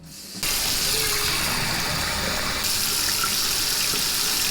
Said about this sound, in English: I'm gonna fill this bowl up with water, hot water.